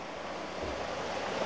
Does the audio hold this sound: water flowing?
yes